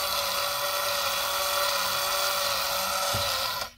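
Battery-powered Pokemon Charizard marble shooter toy turning its marbles, a steady close whirring motor hum with a light rattle, then a click as it stops at the end.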